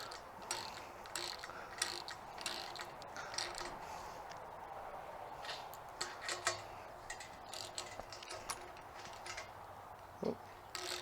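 Fitting being tightened while rebuilding a Cornelius homebrew keg, a quiet close sequence of small ticking and ratcheting clicks over a low hum, with no talk.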